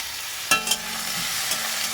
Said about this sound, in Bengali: সবজিগুলো হালকা করে একটু ভাজা ভাজা করে নেব